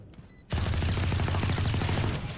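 Sustained rapid automatic gunfire from the video game Valorant, bursting in loud and close after a brief quiet start and rattling steadily to the end.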